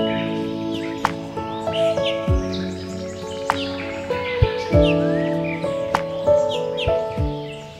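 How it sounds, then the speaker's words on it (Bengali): Several birds calling and chirping in a quiet pine forest near Rishop, Kalimpong, in the monsoon season, with repeated short chirps and brief sharp calls scattered throughout at moderate distance. "পাখির ডাক শুনতে পাচ্ছ?"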